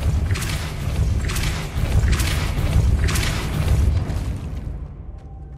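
A Depulso spell cast in a Harry Potter video game bursts as a series of loud, booming whooshes roughly once a second, each with a bright crackling edge over a deep rumbling bed, then fading away.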